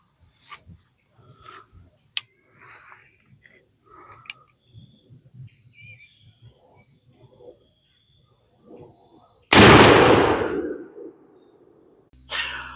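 A 12-gauge shotgun fires a Winchester SuperX 3.5-inch #4 buckshot load outdoors: one loud, sharp blast with a short rolling decay, after quiet background chirps and faint clicks.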